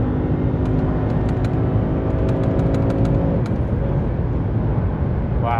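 A Lexus RC-F engine drones steadily from inside the car on the road, a loud low rumble with a held tone that drops and changes as the throttle lifts near the middle, plus faint ticking.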